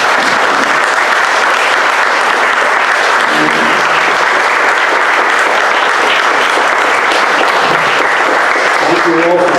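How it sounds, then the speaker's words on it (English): Loud, dense applause from an audience at a city council candidate forum, continuous clapping filling the whole stretch, with a few voices faintly underneath. "can you please stand and everybody give a round of applause?"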